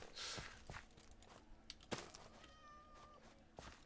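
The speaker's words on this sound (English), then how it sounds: "There's a cat here." A cat in the Nations and Nobles game gives one faint, drawn-out meow among soft footsteps and small taps, all very quiet.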